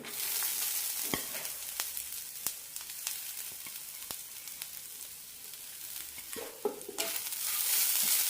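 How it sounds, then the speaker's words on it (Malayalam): Grated coconut and toor dal sauté together in a pan, a soft continuous sizzle broken by repeated sharp ladle taps and scrapes against the metal, close and alone without speech. "തേങ്ങ ചെറുതായി ഒന്ന് ചൂന്ന് കിട്ടുന്നതുവരെ വഴറ്റിയെടുക്കാം"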